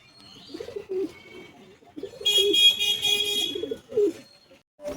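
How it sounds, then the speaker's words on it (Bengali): A pet pigeon cooing close by, a few soft throaty coos in short bursts, alongside a brief high whistle-like tone and quiet background noise. "পায়রাটা দেখো।"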